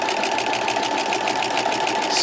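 A sewing machine fitted with a walking foot stitches steadily through quilting fabric, giving a continuous, even mechanical hum with a fast regular rhythm, close and moderately loud throughout.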